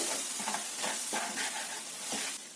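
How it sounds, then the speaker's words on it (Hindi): Coconut and milk paste being stirred in a hot pan, a steady wet sizzle with scraping strokes from a spoon at irregular intervals, close and continuous with no talking. "और अब सभी चीजों को अच्छी तरह से मिक्स कर लेंगे।"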